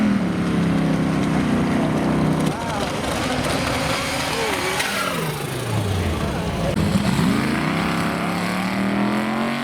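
A V8 Triumph Herald races its partner at a car show, its engine roaring loud and steady with rising and falling revs as it passes, while a voice talks over it.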